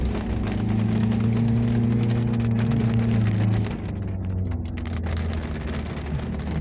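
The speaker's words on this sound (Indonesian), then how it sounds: "Hujan tapi terang." Rain falls in sunshine on a steep, winding mountain road at Gunung Lio, a steady hiss beneath a low humming engine drone that drops away partway through, leaving the patter more exposed.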